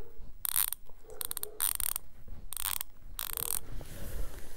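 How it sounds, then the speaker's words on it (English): Koken ratchet clicking in several quick bursts of sharp, close metallic ticks with short pauses between them, and no voices. "here's the ASMR sound of that ratchet"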